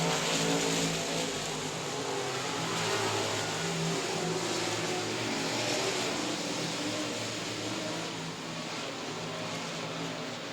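Stock race cars roar continuously around the South Texas Speedway oval, a steady loud drone of several engines blending together with slight swells as the pack passes, and no voices.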